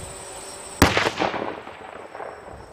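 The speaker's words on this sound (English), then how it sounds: "bomb technicians are going to show us what it looks like when different types of devices are detonated" A single sharp blast as a homemade explosive device is detonated at a first-responder training, followed by a crackling, rumbling burst that trails off over a couple of seconds.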